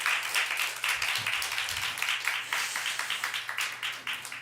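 A church congregation at a Sunday service applauds a newlywed couple after their wedding: fairly faint, scattered hand claps that fall into a loose rhythmic patter over a low steady hum.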